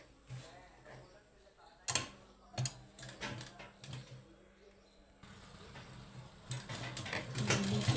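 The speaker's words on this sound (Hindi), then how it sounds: "अब ब्लाउज में नीचे सिलाई लगा लेते हैं।" Sewing machine stitching the bottom hem of a blouse: quiet mechanical ticking and clattering in short bursts, then a steadier whirring run that grows louder toward the end, with someone speaking softly at times.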